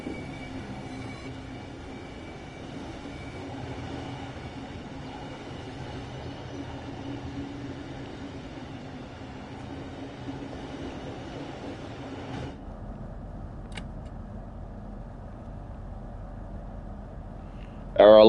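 A Southeastern Class 395 Javelin train at a London station in Train Sim World 5, a low steady rumble and hum of the idling electric train that cuts off abruptly, followed by quieter station ambience and brief sounds.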